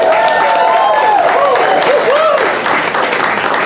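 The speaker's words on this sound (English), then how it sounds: "can we give this incredibly talented man the biggest round of applause that we can muster?" A gala crowd at the AKC Museum of the Dog in New York City gives a loud, sustained round of applause, dense clapping filling the whole stretch with a few whoops rising above it.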